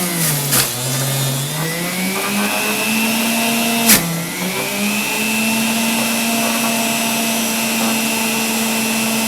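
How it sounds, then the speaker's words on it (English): A Breville Juice Fountain Elite juicer motor whirs loudly and steadily while juicing carrots, its pitch sagging as it lugs under load before recovering, with a couple of sharp clunks as carrots are pushed in. "You can hear this motor lugging down a little bit as I'm juicing."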